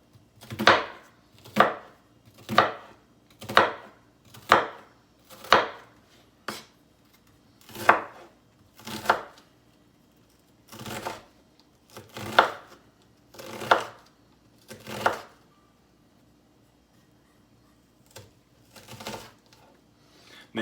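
A kitchen knife chops through hamburger ingredients on a cutting board, about fifteen crisp, evenly spaced knocks that thin out toward the end, close and clear with no talking.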